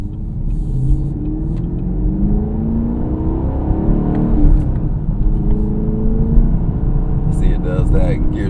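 A Chevrolet Camaro LT1 pulls hard under acceleration, its engine note climbing steadily and dropping at a gear change near the middle before rising again, with a voice talking over it throughout.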